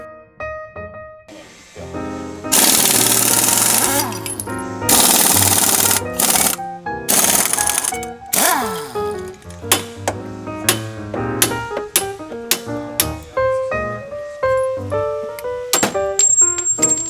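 A power tool removes the lower strut bolts from the steering knuckle of a Cadillac Eldorado, sounding as several loud, close bursts of rattling impact, then a scatter of metallic clanks and taps.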